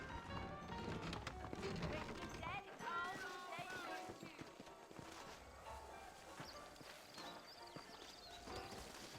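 Horse hooves in a video game clip-clop in a steady rhythm at moderate volume, with talking voices layered over the trotting throughout.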